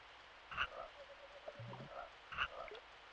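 Frogs croaking in the SNES game Secret of Evermore: a few short, chirpy synthesized croaks with pitched blips between them, set against quiet game ambience and no talking.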